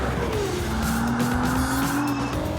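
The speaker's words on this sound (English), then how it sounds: "Time for a quick lap." A Ferrari 296 GTB laps a race track with traction and stability control off, its engine note rising steadily and tires squealing, loud and close throughout.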